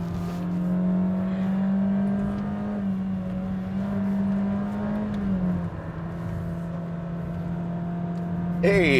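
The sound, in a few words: Honda City engine roaring while climbing Genting hill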